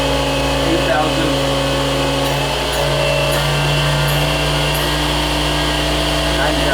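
Hardinge DT-480P3 CNC drilling and tapping machine spindle spinning up toward about 10,000 RPM, a steady close mechanical whine with rising tonal hum over a constant broadband motor drone, no gaps throughout.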